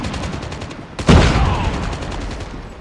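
Gunfire in the mobile shooter Call of Duty Mobile: a rapid rattle of shots, then a sharp, loud close burst around the one-second mark followed by continued firing that stays dense and forceful to the end.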